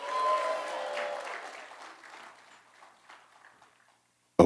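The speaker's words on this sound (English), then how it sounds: "So give yourselves a big round of applause already" Audience applause at a BlerDCon panel, a full burst of crowd clapping that thins and fades out over several seconds before a sudden loud sound at the very end.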